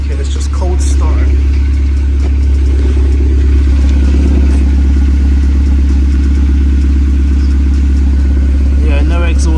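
A Skoda Fabia engine idles just after a cold start, a loud, steady low rumble with a slight rhythmic clatter running throughout, heard close up with no gaps.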